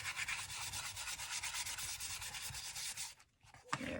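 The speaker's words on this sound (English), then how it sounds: "I'm just going to quickly sand it, get all the shiny off." Close, steady rapid scratching as a playing card is sanded to strip its glossy finish, rhythmic rubbing strokes for about three seconds, then a brief pause and a final scrape, with no talking.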